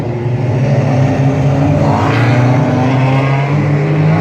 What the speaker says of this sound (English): Pace car trying to pick up the field off turn 4 here.